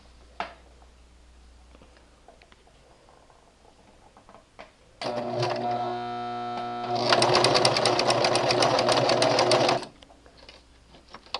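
A Brother LX3014 sewing machine stitches with a twin needle and flower foot, first in a slower whirring run, then in a faster, louder, steady rattling burst for a few seconds before stopping, with quiet room sound around it.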